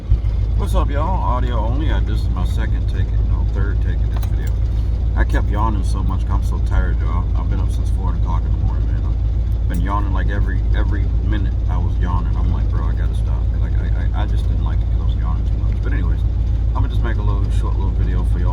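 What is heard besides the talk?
pickup truck engine running with heater on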